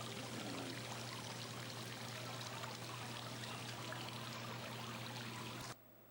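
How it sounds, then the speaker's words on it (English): Loud flowing water rushes steadily nearby, a constant dense roar with no pauses until it cuts off abruptly near the end. "The water sounds cool, but it's too loud."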